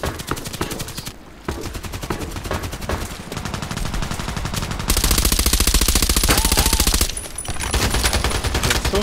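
Suppressed H&K MP5SD6 gunfire in the Contract Wars video game, rapid loud bursts of automatic fire in close succession, with a long sustained burst midway and brief pauses between strings of shots.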